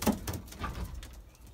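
Young Belgian racing pigeons coo softly in a loft, a few low murmuring calls close by over quiet background rustle.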